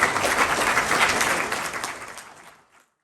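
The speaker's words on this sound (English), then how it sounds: "So a round of applause for Mark Alberts, Matthew Handelman, John Pizzul" Audience applause at Expo 2022, a dense burst of many hands clapping up close that tapers off and fades to silence within about three seconds.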